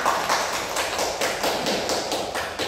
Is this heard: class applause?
yes